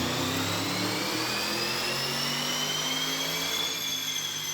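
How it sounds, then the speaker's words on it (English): A turbocharged car runs hard on a dyno, a loud sustained engine roar with a rising turbo whine that sweeps upward steadily, close and without talk. "you can hear them turbos sound beautiful."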